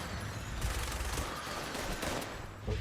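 Dense bursts of automatic gunfire from a Fallout 76 firefight against a turret crackle loudly and continuously, a sustained fusillade with no clear breaks and no talking over it.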